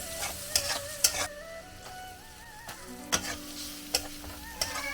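Ginger and garlic fry in oil in a pan for shrimp fried rice, a close steady sizzle broken by sharp clinks and scrapes of a spatula stirring against the pan.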